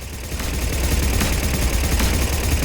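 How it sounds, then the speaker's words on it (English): Rapid gunfire from the Blood Pack gun in Mass Effect 3, a dense, steady burst of shots lasting a few seconds, loud and continuous with no talk over it. "This is the Blood Pack gun."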